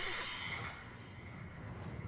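A horse, a mare in The Witcher 3: Wild Hunt, neighs in a drawn-out, wavering whinny at the start, fairly quiet, fading into soft background noise.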